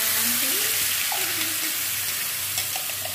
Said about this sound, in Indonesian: kita panaskan wajan, diisi sedikit minyak, kita tumis bumbunya